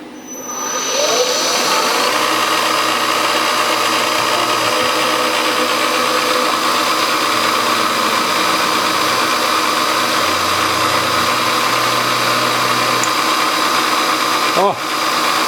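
A milling machine runs continuously as an end mill cuts metal held in a vise, with coolant squirted from a small bottle; a steady loud whine and grinding drone with shifting low tones ends in a sharp break near the end.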